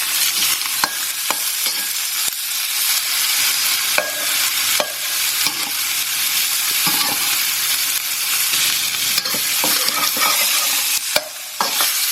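Thai fried rice with prawns stirred and frying in a hot pan, a continuous loud sizzle with frequent scraping clacks of a utensil against the metal, close and without talk.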